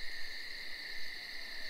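Eagle owl calling at night, steady faint hooting in a quiet natural setting, alone with no voices.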